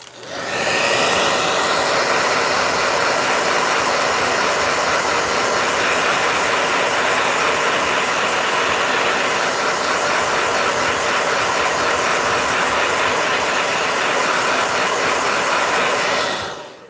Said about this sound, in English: Hold on, let me blow dry real quick. Blow dryer.